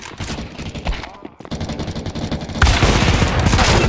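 Counter Strike 2 gunfire in gun-game mode comes in rapid automatic bursts, broken by a brief quiet gap and then a denser, louder stretch of shots. The firing is close and harsh, with occasional faint voices under it.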